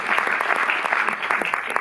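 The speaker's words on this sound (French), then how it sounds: "vous pouvez aussi l'applaudir" Audience applause fills a Paris Cinémathèque screening talk for the film Tinnitus, a steady, dense wash of many hands clapping close and loud, with no voices over it.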